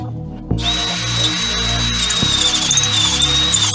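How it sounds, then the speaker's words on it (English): A power drill whirs steadily for several seconds, starting abruptly and holding a high, continuous whine, close and loud, during work on a Hyundai Elantra being readied for off-road racing. "Marking up the spots to drill"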